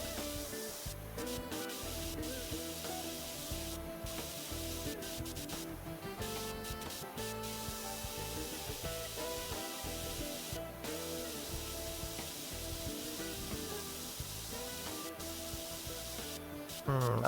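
A pressure washer nozzle in the video game PowerWash Simulator sprays in a continuous hissing jet, steady and unbroken over a layered game soundtrack, ending with a short louder burst.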